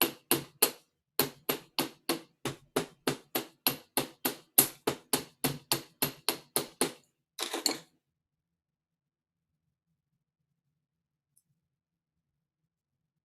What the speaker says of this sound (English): So with your pin end, it is good to hammer that a little bit to work harden it to make it stronger.